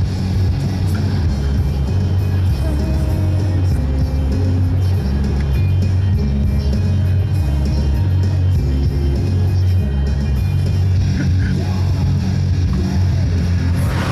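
A car drives past on a road in Nottingham, a steady loud engine rumble with a low pulsing drone filling the whole stretch, no talk over it.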